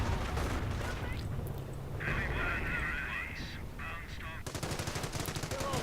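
Rapid machine-gun fire in a video game, sustained bursts mixed with other dense battle noise that stays loud and continuous, with a sharper run of shots near the end.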